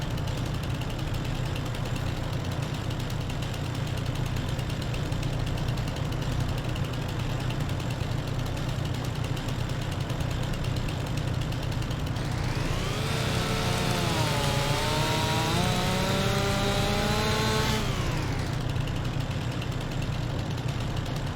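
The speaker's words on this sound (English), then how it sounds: "Come on, chainsaw, do your thing." A chainsaw in Farming Simulator 25 revs up and cuts into a tree for several seconds, its whine rising and bending in pitch over a steady engine drone from the game.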